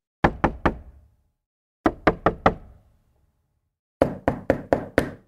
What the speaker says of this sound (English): Door knocks.